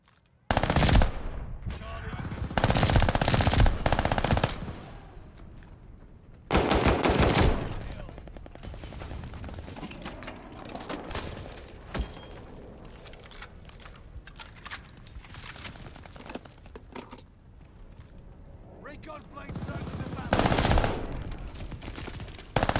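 Armaguerra 43 submachine gun fire in Call of Duty Vanguard, with rapid sustained automatic bursts in several long strings, loud and close, mixed with game effects and background noise.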